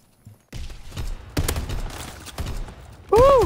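Shotgun fire in Call of Duty WW2's infected mode: several heavy, booming single blasts spaced about a second apart, close and loud, with a brief rising electronic tone near the end.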